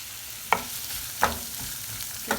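Chopped onion frying in a pan, a steady low sizzle broken by three spaced scrapes of a utensil stirring, nearby and unaccompanied by speech.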